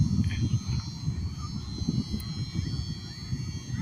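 A helicopter flying overhead gives a low, steady rotor-like engine rumble, continuous and fairly even throughout, with a faint high hum above it.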